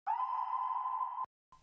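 Original ambient impact sound effect, a steady sustained tonal swell that holds loud and even for over a second, then cuts off sharply, followed after a short gap by a faint low tail.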